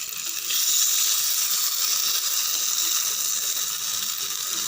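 Samba rava kuzhipaniyaram batter sizzling in oil in the pan, a bright, continuous frying hiss that swells just after the start and holds steady, no talking.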